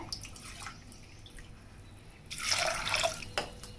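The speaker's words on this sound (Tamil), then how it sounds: "ஒரு கப்பு கடலை பருப்புக்கு இது முங்குற அளவு தண்ணி ஊற்றினோம்னா நம்ம போதும்" Water is poured from a cup over soaked chana dal in a cooking pot, a faint trickle followed by a brief, louder splashing gush near the end, quiet and close with no talking.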